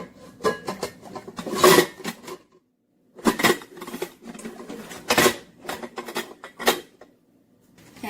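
A cooking pot is set down on top of other stacked dishes, giving bursts of clattering metal knocks and scrapes separated by short silences, close and moderately loud.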